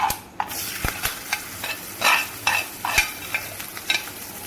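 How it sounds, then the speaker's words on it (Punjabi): Hot tempering with curry leaves for a coconut-style chutney served with sponge dosa, heard as brief crackling sizzle bursts and clinks of a ladle, close and fairly quiet with no talking. "ਹੁਣ ਆਪਾਂ ਤੜਕਾ ਚਟਨੀ ਦੇ ਵਿੱਚ ਪਾ ਦੇਣਾ ਹੈ"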